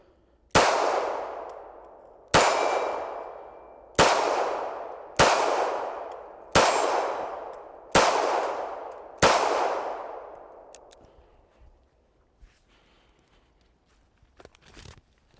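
Seven evenly spaced shots from a Smith & Wesson Bodyguard 2.0 .380 pistol strike steel gongs at an outdoor range, each hit a sharp, loud metallic clang that rings and fades before the next.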